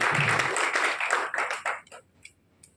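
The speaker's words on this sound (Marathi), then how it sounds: "एकदा जोरदार टाळ्या वाजवून आपण या ठिकाणी स्वागत करूया." Applause at a meeting welcoming guests: a burst of many hands clapping together, loud and dense at first, then thinning out into a few scattered claps before fading.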